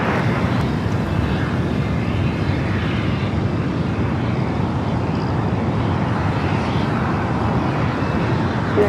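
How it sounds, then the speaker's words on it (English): A United Airlines Boeing 737-800 takes off at Los Angeles International Airport, its jet engines producing a loud, steady broadband roar that holds constant throughout, with no speech over it. "Also, United Airlines flight 1623 heading to Reno, a 737-800."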